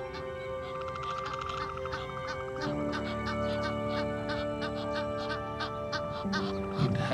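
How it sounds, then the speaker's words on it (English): Waterbirds such as pochards, mallards, herons, cormorants and flamingos call across a Liwa wetland, a dense, continuous chorus of overlapping honks and quacks at middle distance. "It has huge numbers of common pochards, mallards, grey herons, great cormorants, flamingos."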